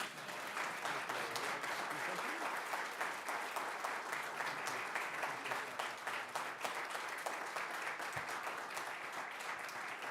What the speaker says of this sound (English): We're going to need some major applause, some major love for them